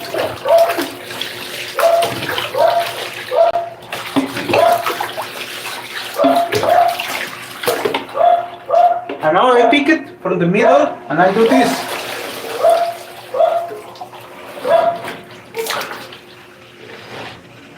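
Water splashes and sloshes as clothes are washed by hand in a large basin, rhythmic wet squelches and pours repeating throughout while a person talks over them.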